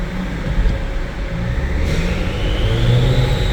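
A car engine runs on a dyno in third gear with slightly rumbly tyres, giving a steady, loud, close mechanical drone with a low rumble throughout and no talking.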